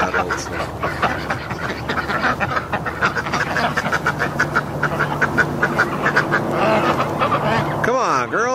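A small backyard flock of ducks quacking busily and continuously, close and loud, with a voice talking over them; a ringing metallic wobble rises near the end.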